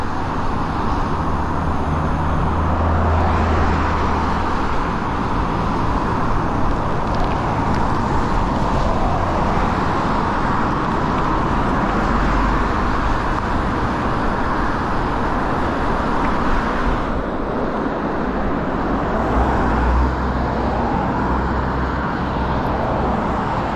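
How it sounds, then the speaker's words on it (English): Steady road traffic drones past an e-bike on a busy commute, with continuous car and engine noise close by and rising and falling as vehicles pass. "With all the traffic."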